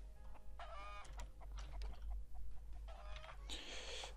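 Chickens clucking in the Roblox Skyblock video game, a busy run of short clucks and squawks from several birds close by, with a steady low hum underneath and no talk.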